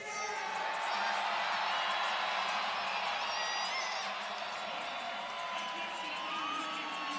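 A crowd in a college wrestling arena cheers for Ben Kerr with sustained loud cheering and whoops that fill the hall steadily, and a commentator's voice is heard over the noise.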